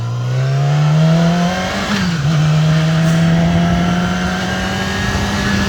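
A 2019 Yamaha R6 sport motorcycle under way, its engine holding a loud, steady high-pitched drone close by with a brief dip and recovery in revs midway, accompanied by wind rush.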